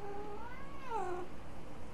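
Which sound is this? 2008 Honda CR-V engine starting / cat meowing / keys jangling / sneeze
cat meowing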